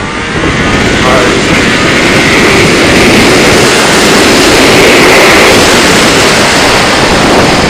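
A built all-motor Hayabusa motorcycle accelerates hard, a loud, sustained engine roar with heavy wind rush that stays constant throughout.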